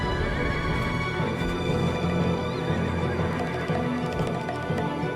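Horses whinny and neigh amid hooves and busy ambient game sound in Black Desert, the loud mix constant throughout with no talking.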